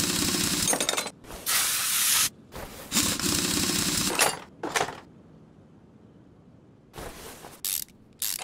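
A ratchet wrench in Car Mechanic Simulator 2021 working at a stuck nut near a brake disc, loud rapid clicking bursts in several separate runs, stopping for a quiet stretch before a few shorter bursts.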